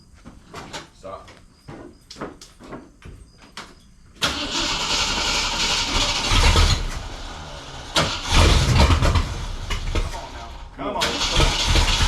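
An engine left sitting for a year cranks repeatedly in short bursts, then catches and roars loudly in uneven surges before cutting out and revving again, with people talking nearby.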